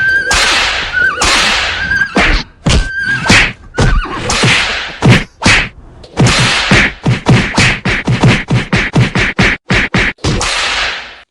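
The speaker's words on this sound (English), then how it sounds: "That was beating a dead horse." A rapid series of sharp whip cracks and thwacking blows, a made-up sound effect of beating a dead horse, landing loud and close in an accelerating irregular rhythm, with no talk.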